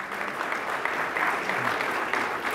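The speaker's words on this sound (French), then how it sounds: "applaudissons la catégorie or" Banquet audience at an induction ceremony applauding steadily, a soft, even wash of clapping from a room of guests with no one speaking over it.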